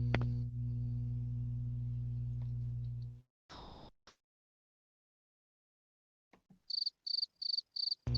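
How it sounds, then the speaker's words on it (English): Crickets chirp in a run of five evenly spaced high pulsing bursts near the end, clear and isolated after a loud hum cuts off into near silence. "Crickets."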